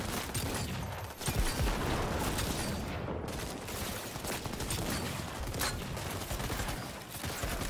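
Dense gunfire from the video game Cyberpunk 2077, with continuous automatic bursts and overlapping shots forming a loud, sustained firefight and no pause.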